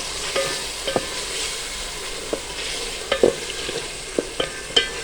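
Half a kilo of washed, cut potatoes frying with masala in a pan, a steady sizzle under a series of sharp scraping stirs and clinks of the spoon, close and moderately loud, no talk.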